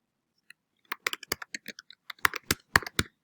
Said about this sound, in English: you're going to type your name